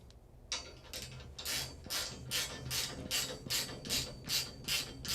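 Ratcheting clicks from snugging mounting hardware on a RAM Stratus, a steady run of about ten evenly spaced rasping strokes, close and moderately loud with no talk.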